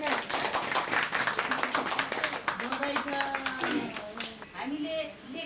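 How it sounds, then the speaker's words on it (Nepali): Scattered hand clapping from a small audience at an annual general meeting, approving a proposal to form an advisory committee; claps stay close and fairly loud throughout, with a few voices talking and murmuring over them. "ताली बजाएर पास गर्ने"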